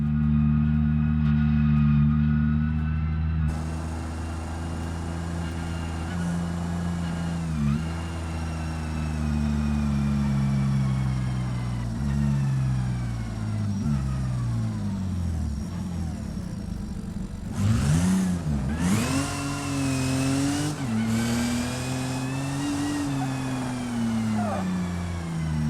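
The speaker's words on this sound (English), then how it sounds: "Might actually end up drifting the tires off this thing, literally." A car drifts in BeamNG career mode with its engine revving and tires howling in long sliding squeals, pitch rising and falling through sustained slides, with a sharper, louder screech burst partway through.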